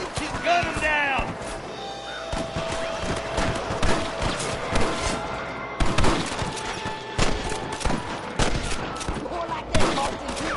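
Gunfire and a fusillade of shots in Red Dead Redemption on PS4 Pro, mixed with horses, hoofbeats and whinnies, with sharp bursts spread throughout under continuous shouted speech and game dialogue.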